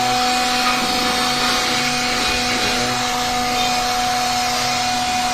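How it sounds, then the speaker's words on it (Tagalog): Air blower driving water out of a Toyota Camry V6 engine bay during detailing, a steady loud whooshing drone with a constant whine, close and unbroken. "Blower natin para matanggal na yung tubig hanggang sa kailaliman."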